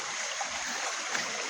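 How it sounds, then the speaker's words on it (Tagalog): Rushing water from a clear mountain stream makes a steady broadband hiss, continuous and fairly close, heard alone without voices. "Naririnig ko na yung ragasa"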